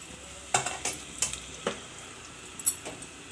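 Bitter gourd frying in oil inside a clay pot, with a soft steady sizzle and a few sharp stirring scrapes and clinks scattered through, close and fairly quiet with no talk.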